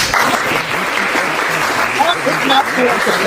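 Audience applause at the closing ceremony of a summer self-defence camp, a steady dense clapping that fills the whole stretch, with a few voices and faint whistles mixed in.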